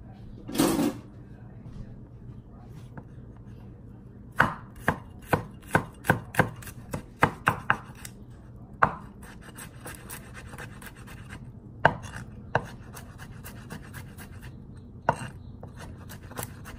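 Garlic being chopped with a knife on a cutting board, a series of sharp close taps in quick bursts with pauses between, following a brief louder rustle at the start.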